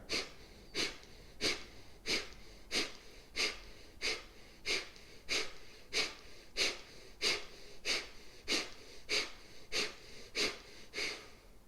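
Forceful yoga breathing during a breathwork round, with sharp nasal exhales repeating in a steady, even rhythm about once every second and a half, close and clear with no talking.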